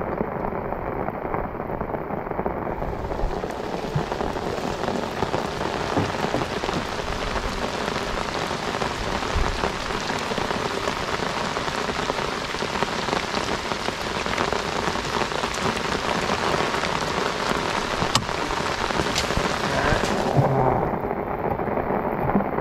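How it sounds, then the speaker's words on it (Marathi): Heavy monsoon rain pours steadily on a Konkan creek during traditional fishing, a dense, loud, continuous hiss of drops lasting the whole stretch with no voices. "पाऊस पण भयंकर पडतो बघा."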